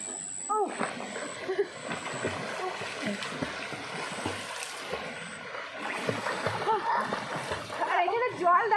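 Water splashes and sloshes as people bathe in the sea at Little Andaman, with the currents moving around them, all under near-constant talking voices and a brief whistle-like tone early on.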